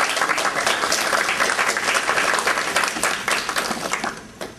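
Warm applause from an auditorium audience, dense steady clapping that stays loud throughout and eases slightly toward the end, with no speech over it.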